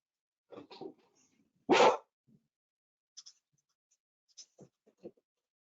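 A dog barks several times in a home during an online transportation commission meeting, one loud close bark standing out among a few fainter yips and short scattered noises, with no talk over it.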